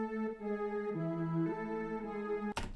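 Serum synth preset from a Waves pack doubled with an additional synth, a sustained buzzy lead holding a few slow pitch steps, moderately quiet, ending in a short noisy burst.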